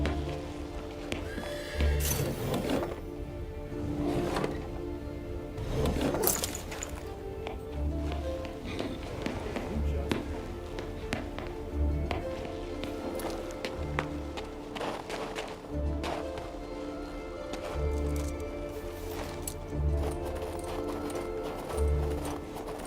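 A horse in the video game King's Bounty II trots with steady, rhythmic clip-clopping hooves and lets out occasional neighs, close and fairly loud over a faint game soundscape.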